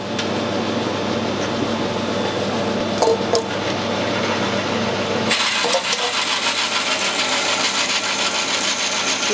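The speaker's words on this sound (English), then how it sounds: "certainly drilling a hole, benefit of a little bit of cutting oil" A drill bores a hole in metal with a little cutting oil on a tool and cutter grinder setup, a steady grinding whir running throughout that shifts to a brighter, harsher tone partway through.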